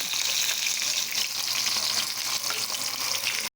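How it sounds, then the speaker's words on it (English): Fish frying in a pan for a Jamaican brown stew fish, a steady close hiss and crackle of hot oil that continues evenly throughout. "You want to allow the other side of it to fry."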